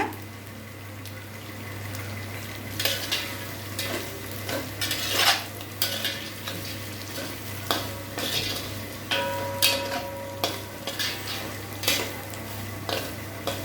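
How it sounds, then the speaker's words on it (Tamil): Pepper being stirred into Pallipalayam chicken in a pan, a close, steady scraping and clinking of a utensil against the pan over a low, continuous cooking hiss. "நல்லா மிக்ஸ் பண்ணியாச்சு."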